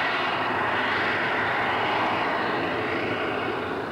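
Duchess steam locomotive working hard at Appleby Station on the Settle–Carlisle line: a loud, steady, continuous roar of exhaust and machinery that fills the whole clip without a break, with no voices.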